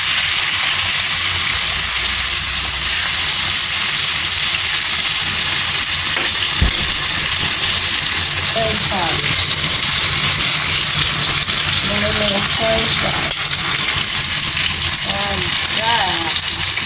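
Pork chops fry in a pan with a constant loud sizzle and hiss, close up, while a person talks and other kitchen sounds mix in.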